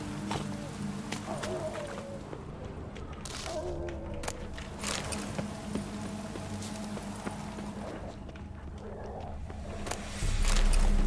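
Roach, the horse in The Witcher 3, trots with steady rhythmic clip-clopping hooves at close range over a busy ambient game soundscape.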